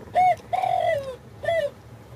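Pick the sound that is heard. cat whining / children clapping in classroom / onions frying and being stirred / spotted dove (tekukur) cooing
spotted dove (tekukur) cooing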